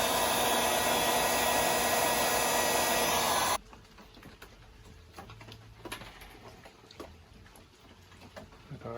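A heat gun blows loudly as it shrinks heat shrink tubing on electrical wiring, a steady close roar that cuts off abruptly partway through, leaving quiet room noise with faint ticks and handling sounds.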